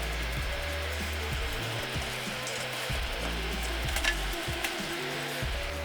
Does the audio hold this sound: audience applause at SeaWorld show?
no